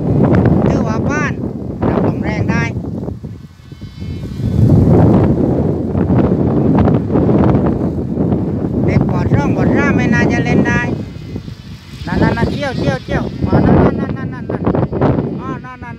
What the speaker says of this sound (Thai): แรงแล้วครับลมแรงแล้วครับ